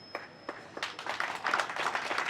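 A crowd at a political rally in Uganda starts clapping, a few scattered claps at first that quickly build into fuller, continuous applause from many hands.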